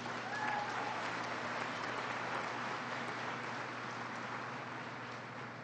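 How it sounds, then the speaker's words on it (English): Steady applause from an audience at a Congressional Hispanic Caucus Institute evening event, a dense even wash of clapping that holds for several seconds with no voices over it. "Please give them a huge round of applause."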